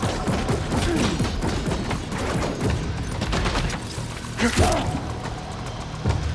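Video game Death Stranding 2 gunfire: rapid bursts of shots and thuds rattle on continuously, with a heavier boom near the end, dense and loud under shouted combat voices.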